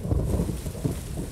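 Low thunder rumbles through a storm with rain and gusting wind, a loud, continuous rolling roar with swelling peaks.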